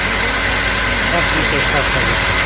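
A 1.6 petrol-gas Opel engine idles in a steady, even rumble with a slight vibrating texture, close and constant, while a voice talks faintly over it.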